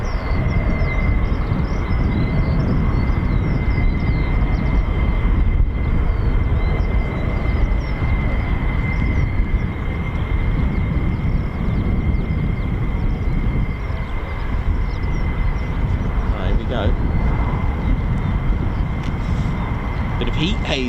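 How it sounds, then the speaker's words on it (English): F-16 fighter jets taxi at RAF Waddington during a Cobra Warrior exercise, a steady, loud, broadband engine roar with a persistent high whine holding throughout, with faint talk underneath. "F-16's taxiing right now."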